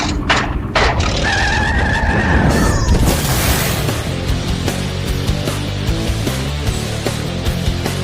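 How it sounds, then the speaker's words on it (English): A car spins donuts in the snow, its tires skidding and scrabbling under a loud, roaring engine that revs and surges continuously and close by, with no voices. "we've got donuts in the snow"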